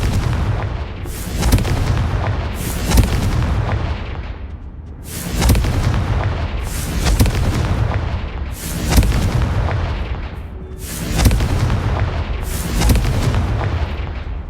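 Repeated Confringo explosion spells cast in Hogwarts Legacy, a series of loud booming blasts roughly every second or two, each with a sharp crack and rumbling tail over a continuous low roar.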